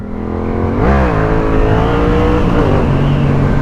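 A loud Yamaha XSR 700 motorcycle engine revs up and holds a throaty, rising drone close by, with pitch wavering as the throttle shifts.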